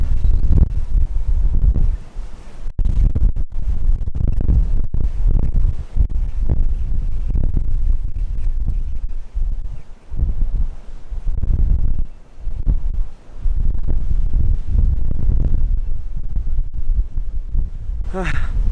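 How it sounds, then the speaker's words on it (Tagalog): Strong wind roars and buffets the microphone continuously at the peak of Monte Cimone, a heavy low rumble with gusty surges, almost masking everything else. "Guys, sobrang lakas ng hangin"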